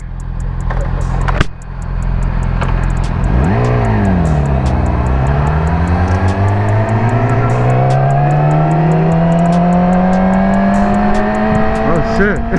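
A Kawasaki 650 motorcycle accelerates hard while doing a wheelie, its loud, close engine note dipping and then climbing steadily in pitch as it pulls away, with a constant rough roar throughout.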